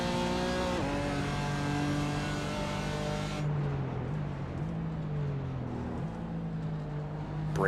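A BMW M4 GT race car brakes and downshifts into a right-hand hairpin at Sebring, its engine note dropping in steps before climbing again as it powers out, loud and close throughout.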